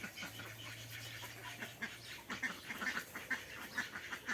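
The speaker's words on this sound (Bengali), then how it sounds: "দেখুন, অনেক হাঁস আছে আজকে এখানে।" Several ducks quack repeatedly at a village pond beside a bamboo thicket on a hot day, fairly faint and slightly distant, in short irregular bursts over a low outdoor background with no one talking.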